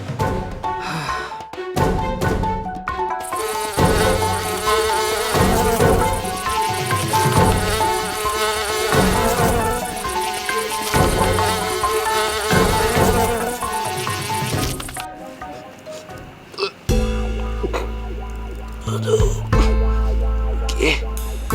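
A fly buzzes close by, a steady insect drone running through most of the stretch, layered over music and background sound.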